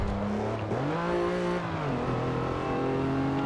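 Chevy Colorado engine in Forza Motorsport 7 revving steadily and loudly up close, pitch rising and dipping with gear changes through a continuous drone, no talk over it.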